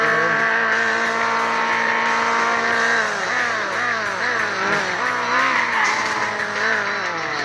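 A car pulls away from a standstill, its engine note climbing steadily in loud, continuous harmonic sweeps that rise and dip as it revs through the run, with no talking.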